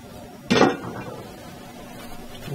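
A single soft thud as biscuit dough for buttermilk cream biscuits drops out of a bowl onto a lightly floured counter, with a brief clatter of the bowl and then quiet room tone.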